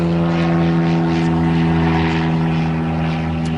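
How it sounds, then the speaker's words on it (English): Propeller airplane droning loudly overhead, a steady engine hum with strong harmonic tones that holds for the whole stretch with no talk. "Just let the plane pass."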